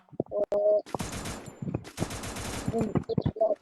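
Gunfire in the shooter game Free Fire crackles in a couple of dense rapid bursts, loud and close, mixed with short game tones and chirps, while a voice talks in between.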